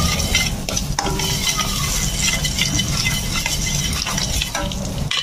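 A spoon stirs spices in a pan for a potato snack, with steady scraping and clinking over a soft sizzle, close and continuous, with no voices.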